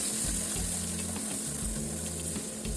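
Sugar and margarine caramel bubbling in a pan, a dense steady sizzle of popping bubbles with faint low knocks, close and continuous.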